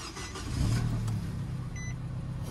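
A car engine, freshly welded by a mechanic, runs with a steady, fairly loud rumble that swells briefly in a short rev, with no speech.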